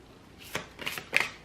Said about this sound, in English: I'm just going to go through the shuffle